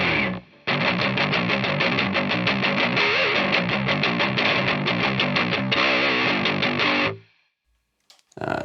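An Ammoon PockRock guitar processor set to overdrive, with a dense, driven electric guitar tone played steadily in strummed chords for about six seconds, then a fade and a short burst at the end.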